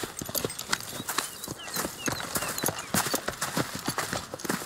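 Horse hooves clip-clop in a quick, steady rhythm on a hard surface in the video game Red Dead Redemption 2, fairly close, with faint ambient noise underneath.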